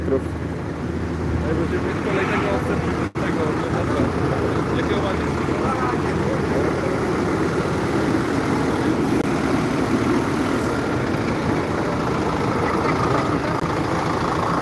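Several farm tractors, including Zetor, Massey Ferguson and orchard models, idle together at a farmers' protest in Poznań, a steady low diesel rumble filling the whole stretch with people talking over it.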